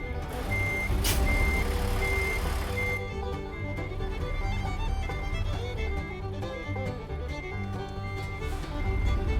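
A truck in American Truck Simulator sounds its reversing alarm in regular, evenly spaced beeps over a steady low engine rumble. The beeping stops after about three seconds, and the engine drone carries on.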